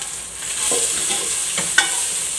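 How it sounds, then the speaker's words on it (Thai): Curry paste being dry-stirred in a pan for a northern Thai frog curry, a soft continuous sizzle with a few scraping strokes of the utensil and one sharp clink near the end. "คั่วเครื่องให้มันหอมก่อนเนาะ"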